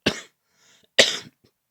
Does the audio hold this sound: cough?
yes